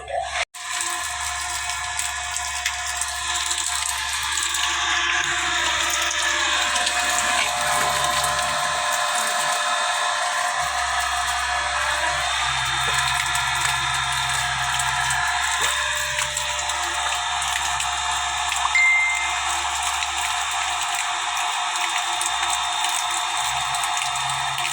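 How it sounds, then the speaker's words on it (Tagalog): A newly installed deep well water pump runs steadily with a continuous high mechanical whine and a low hum underneath, loud and close throughout with no talking. "tatry na namin yung deep well na bagong ikinabit namin"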